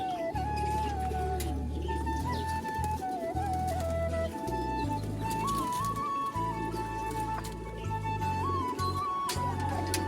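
Pet pigeons at home give soft, low cooing through a steady background hum, with some faint chirps and whistles mixed in.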